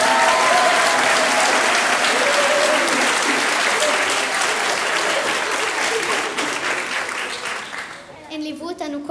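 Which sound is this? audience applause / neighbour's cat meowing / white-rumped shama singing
audience applause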